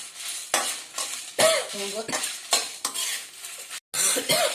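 Black pepper and spices roast in a pan, heard as bursts of dry sizzle and scraping stir strokes with clinks of a utensil against the metal, coming in uneven surges with short pauses between.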